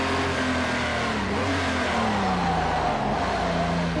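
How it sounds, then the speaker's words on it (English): A Group 6 race car in Project Cars 2 revs hard and steadily, the engine note climbing and falling as it accelerates, loud and continuous with no talk over it. "That's a lot of power in that car."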